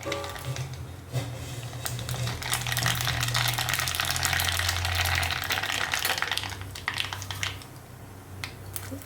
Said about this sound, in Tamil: இப்போ எண்ணெய் சுட்டுருச்சு, இந்த கடுகு போட்டுருவோம்.